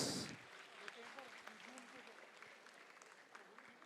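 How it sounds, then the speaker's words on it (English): Faint, scattered applause from an audience at a quiz event prize-giving in Patna, a modest round of clapping heard from a distance after a short louder burst at the start. "please give them a round of applause"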